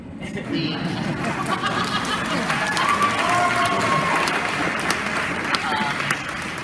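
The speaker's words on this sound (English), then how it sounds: "just because he sits down doesn't mean you have to stop applauding" Sustained clapping from a large debate audience at Politicon 2017 fills the whole stretch, steady and dense, with scattered voices and a bit of chatter mixed in.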